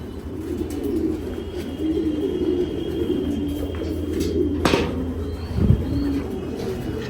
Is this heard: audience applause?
no